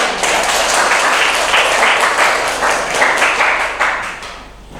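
A classroom of students applauds student groups, loud, dense clapping from many hands that carries on steadily and then thins out toward the end.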